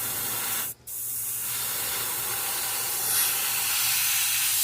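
Paint hisses steadily from an airbrush onto a largemouth bass fishing lure. The loud, continuous spray breaks off once briefly, then picks back up and keeps going without any talk.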